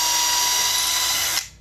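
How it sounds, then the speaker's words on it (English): A power drill whines steadily at high speed, boring into a wooden board for a raised vegetable garden bed, loud and close, then cutting off abruptly near the end. "before you start making your drill holes"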